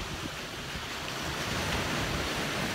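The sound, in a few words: ocean waves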